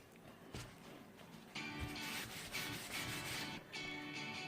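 A cloth or pad rubs oxidation off the handle of a Gaillard Paris copper pot in close, steady scrubbing strokes, with short pauses between them.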